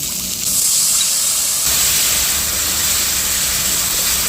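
Water poured into a hot pan of curry spices with chili powder and tomato, giving a loud, continuous steamy hiss and sizzle that swells after a moment and holds steady, with no talk.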